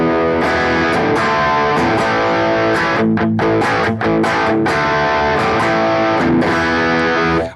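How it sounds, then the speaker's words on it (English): An electric guitar runs through the Marshall Plexi amp simulation of a BOSS GT-1000, playing loud, sustained, crunchy distorted chords and riffs with nothing else heard. "I never thought I'd hear Plexi tones like this out of my GT1000 before."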